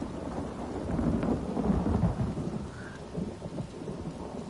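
Steady heavy rain pours down in Elder Scrolls Online while a deep, rolling rumble of thunder swells and fades beneath it.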